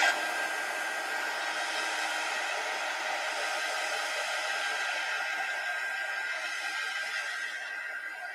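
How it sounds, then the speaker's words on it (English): A heat gun blows steadily over a stencil to dry paint in a watercolor crackle craft project, a constant loud whooshing roar of hot air held close for several seconds without break. "I mean, heat gun this just real quick in this one area."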